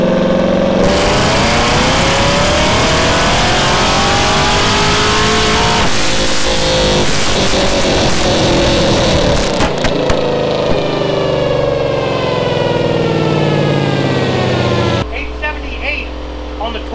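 A Camaro ZL1 engine runs hard on a dyno, roaring loud and continuous as it revs up through the gears in a long sustained pull, then drops suddenly near the end.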